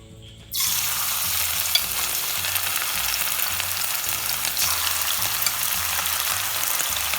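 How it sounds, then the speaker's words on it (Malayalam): Chicken pieces drop into a pan of hot oil and break into a loud, steady sizzle that runs unbroken for several seconds, with faint scraping and stirring underneath, close by and with no talking. "അതിലോട്ട് നമ്മൾ ചിക്കൻ ഇട്ട് ഫ്രൈ ആക്കി എടുക്കാം."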